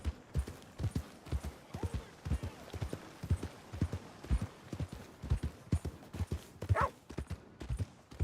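Horse hooves clip-clop in a steady, uneven rhythm close by, loud and continuous with no talking over them.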